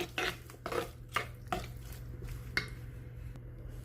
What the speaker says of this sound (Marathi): फोडणी सगळं व्यवस्थित मिक्स करून घेऊया.